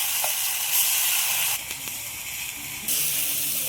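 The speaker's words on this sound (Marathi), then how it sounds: "ती पेस्ट टाकून घेऊ आणि मस्त परतून घेऊ तेलात" Spice paste for a thick egg curry sizzling hard in hot oil over a wood-fired stove, a loud, steady, close hiss that dips briefly in the middle and surges back.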